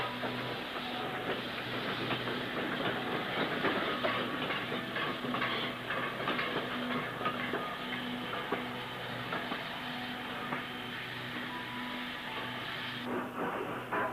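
Black 5 steam locomotive hauling an engineer's crane on the Wirral Railway lines toward Bidston Bridge Yard, a steady rumble of train wagons with rail clatter and hiss running throughout, moderately distant.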